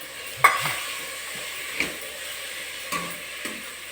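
Chili powder and coriander leaves frying in a pan, a soft steady sizzle under a few distinct stirring scrapes and taps of a spoon, close up with no talking.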